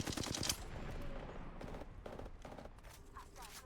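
Automatic gunfire from a firefight in the battle royale game Apex Legends, with a dense burst at the start, then scattered shorter volleys and impacts at moderate loudness, amid game effects and a voice speaking briefly.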